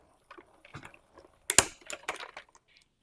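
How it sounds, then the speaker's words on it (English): A die-cutting machine pressing a card panel through a die on its platform: a few scattered clicks and creaks, then a sharp crunching pass and a short run of rough mechanical grinding, close and fairly loud against near silence. "Now I'm going to go ahead and die cut this."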